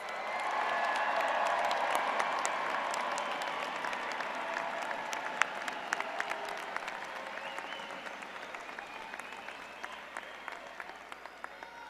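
An audience applauds graduates at a university commencement ceremony, a dense wash of clapping that starts full and gradually thins out and fades over twelve seconds.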